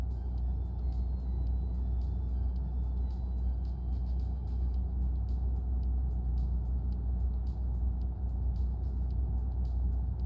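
A truck engine held at a steady limited speed in a driving video game, giving a continuous low rumble and drone that stays even throughout with no talking.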